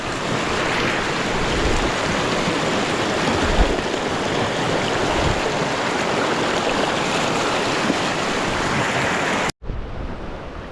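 Rushing floodwater in a swollen river pours steadily and loudly, a dense continuous roar that cuts off abruptly near the end.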